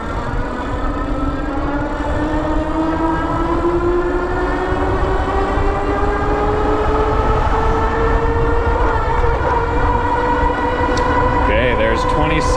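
OKAI Ranger electric scooter at full throttle on a top speed run, a steady rising motor whine climbing in pitch over constant loud wind rush, close and continuous throughout.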